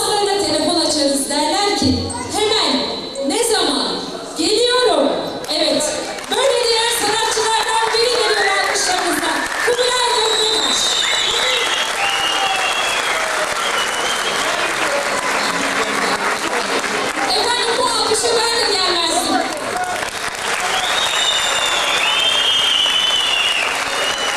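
A concert crowd at a Turkish folk music show in Van applauds loudly and continuously, sustained clapping and cheering that mixes with instrument notes and voices, strong and close throughout.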